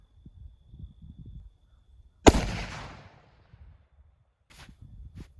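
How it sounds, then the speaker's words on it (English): A single loud rifle shot fired at a far target during a deer hunting outing, a sharp crack with a decaying echo, surrounded by quiet outdoor ambience and a few soft rustles. "Then we'll shoot the far target and see where we're at."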